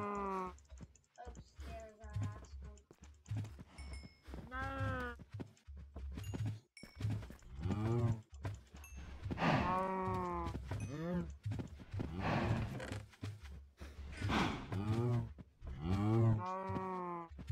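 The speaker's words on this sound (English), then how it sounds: "We have a ton of cows." Cattle lowing in a Minecraft world, a series of drawn-out moos repeating every second or two across the whole stretch, loud and close, with keyboard typing and faint game sounds underneath.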